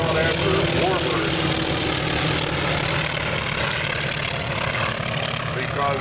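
P-51 warbird propeller airplane at a Navy airshow, engine drone and prop roar steady and loud throughout, with a crowd and voices mixed underneath.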